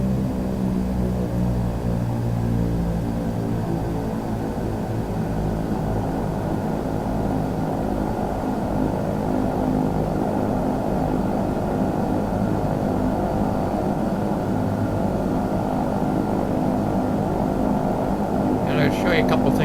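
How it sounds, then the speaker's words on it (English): Embraer EMB110 twin propeller engines in a flight simulator game, a steady, loud droning hum with layered tones that holds unbroken throughout, with a brief faint hiss near the end. "Love the sound of these engines on this plane."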